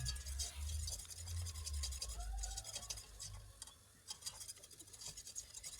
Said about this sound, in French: la farine, mélangez bien pour obtenir un roux bien lisse